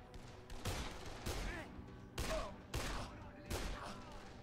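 Gunfire in the zombie game Dead Island, a series of separate shots spaced roughly every second, punchy and moderately close against a low ambient game bed.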